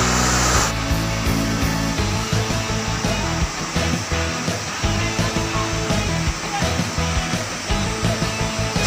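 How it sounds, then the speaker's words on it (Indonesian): Jambur Latong waterfall in Southeast Aceh roars as a steady, loud, broadband rush of falling water, continuous and close for the whole stretch with no clear voices. "kita tiba di lokasi air terjun Campur Latong"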